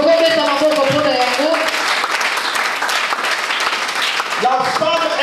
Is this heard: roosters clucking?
no